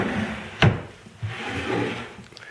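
A wooden drawer on a homemade sanding station slides open with a sharp knock followed by a scraping rub, then a softer sliding sound, close and clear.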